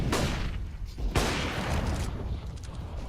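AWP sniper rifle shots in a CS:GO match on Mirage, two loud, sharp cracks about a second apart over a steady roar of game noise and commentary.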